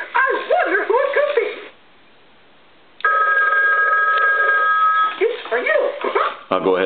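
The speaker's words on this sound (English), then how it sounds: "Now, I'm going to go ahead and ring the phone." An animated Mickey Mouse toy telephone rings with a steady electronic bell tone lasting about two seconds. Before and after it, the toy's cartoon voice chatters and yips, and there is a brief silent gap before the ring.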